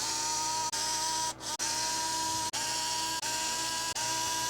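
A power tool whirs steadily while backing bolts out from inside a beadlock wheel, running in several sustained bursts with short pauses between them, close and loud with no talking.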